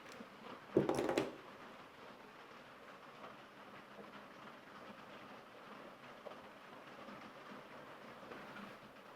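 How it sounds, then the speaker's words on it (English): Buckets of rain drum on the roof of a shed in a constant roaring hiss, with one louder knock early on and the downpour continuing evenly after it. "pouring buckets of rain on top of this shed right now."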